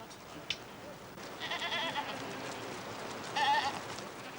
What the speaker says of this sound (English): The sheep and goats were on their way higher up into the hills when we arrived